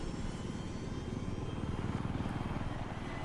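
Helicopter rotor in the Battlefield 3 video game, a dense, steady mechanical thrum with rapid pulsing chop and a broad engine whine, loud and continuous with no voices.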